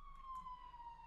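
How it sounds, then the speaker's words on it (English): A single siren tone wails faintly in the distance, slowly falling in pitch over a quiet background. "I'm sorry about the sirens."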